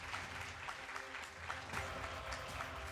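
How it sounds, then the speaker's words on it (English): A large audience at a women leadership awards ceremony applauds an award winner, a dense, continuous wash of many hands clapping at steady volume throughout, heard from somewhat far and rather faint. "A big round of applause to Ms. Pant, our first awardee for the evening"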